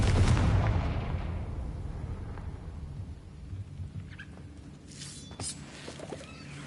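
A Confringo fire spell from Hogwarts Legacy goes off as a booming, thunder-like blast that rumbles loudly at first and then fades into a long low roll with faint crackles, no voices.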